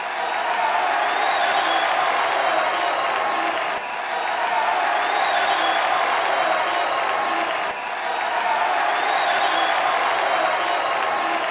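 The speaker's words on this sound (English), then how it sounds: "the crowd turned on him with brutal chants of, "You f***ed up."" A large wrestling arena crowd chanting and booing at Triple H, a loud dense roar of thousands of voices that swells in repeated waves, distant and reverberant, looping with brief dips between surges.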